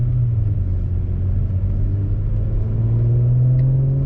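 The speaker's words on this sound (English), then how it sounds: "you can hear a decent amount in the cabin for the exhaust" Steady deep exhaust drone from a 2021 Audi S4 (B9.5) heard inside the cabin with windows open, a constant low rumble that swells slightly toward the end.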